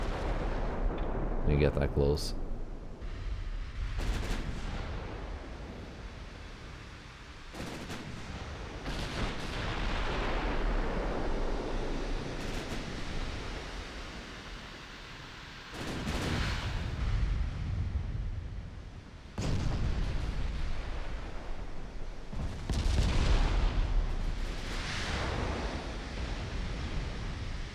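Battlecruiser main guns fire in the naval strategy game Ultimate Admiral: Dreadnoughts, heavy booming salvos several seconds apart with long rumbling, surf-like tails; someone talks briefly over the opening.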